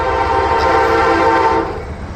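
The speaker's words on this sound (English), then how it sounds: "Here we go with the metro." A Chicago-area metro train passes loudly near the I&M Canal trail in Lockport, a sustained rumbling roar with rail clatter that holds steady before easing slightly toward the end, with no talk over it.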